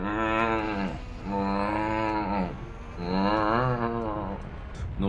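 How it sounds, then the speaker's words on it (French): A sound alert resembling a mooing cow crossed with a buzzing fly: two long, loud, droning moo-like tones, each lasting over a second, with a harsh buzzy edge and no speech. "On aurait dit un croisement, je trouve, entre, tu sais, une vache et une mouche."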